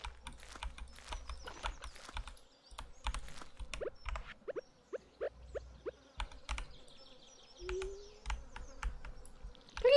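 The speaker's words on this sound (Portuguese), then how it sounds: "Eu não tô gostando desse barulho de mosca." Flies buzz in the Stardew Valley video game, a faint insect drone running under a dense patter of close computer keyboard clicks and a few short chirps.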